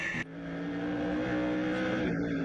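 Race cars at Seven Rivers Racing roar around the track in a steady, loud engine drone with rising revs, after a brief louder burst at the start.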